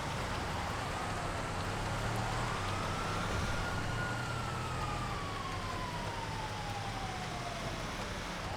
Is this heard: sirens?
yes